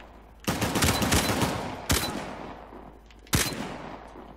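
Gunfire in Uncharted: The Lost Legacy: a sustained rattling burst of shots, then two sharp, loud single blasts spaced about a second and a half apart, with no talking.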